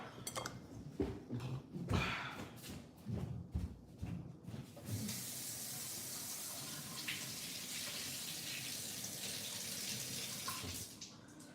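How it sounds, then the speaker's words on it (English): Water runs steadily from a tap as something is rinsed under it, a continuous broadband splash that starts after a few seconds of clattering handling sounds and holds constant until it shuts off near the end. "Let me go rinse this off."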